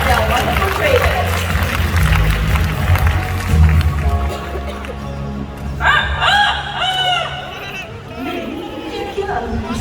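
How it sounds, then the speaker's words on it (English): A rooster crows at a bird park, rising harmonic calls standing out midway over crowd chatter and people talking nearby. "Did you hear a rooster?"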